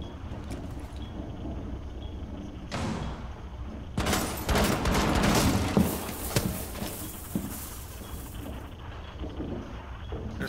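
Rainbow Six Siege match with submachine gun fire on the Kanal map, a dense burst of shots erupting midway over a hissy, windy background, with sparse quieter pops before and after.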